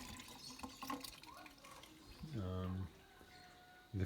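Tap water runs from a house supply fed by a water pump, a soft steady flow with a brief louder gush and humming tone midway, faint beneath nearby talk.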